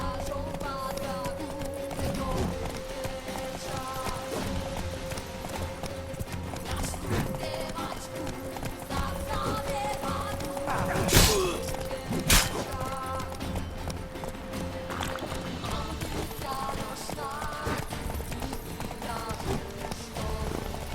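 Rhythmic clip-clop of horse hooves galloping in The Witcher 3, steady and continuous with background music and a couple of sharp impacts.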